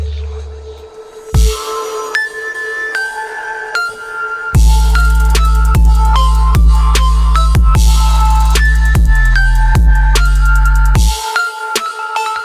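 Second drop of a trap track: a sparse synth intro gives way to booming 808 bass and a repeating bright synth melody, loud and driving, then cuts back to quieter synth.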